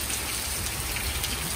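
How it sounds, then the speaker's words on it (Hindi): Steady rain falls outdoors, a dense, even patter of drops on surfaces that stays constant throughout with no speech. "बारिश हो रही है"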